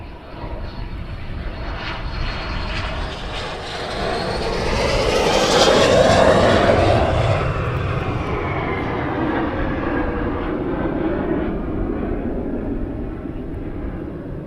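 A military jet roars past at RAF Valley, its broad engine rumble building to a loud peak midway and then holding steady as the aircraft banks away.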